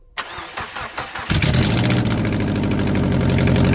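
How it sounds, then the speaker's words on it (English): A Mazda Miata fitted with a custom short ram intake starts up close by, the starter cranking in a few quick pulses before the engine catches and settles into a loud, steady idle. "let's start the car up"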